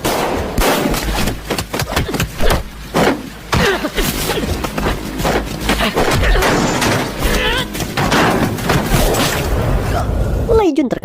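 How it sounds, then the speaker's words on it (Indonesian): Gunfire in an action film, loud rapid bursts and single shots, dense and chaotic, overlapping with a narrating voice throughout. "Lei Jun terkena tembakan dari salah satu rekan Sogil yang baru tiba di lokasi."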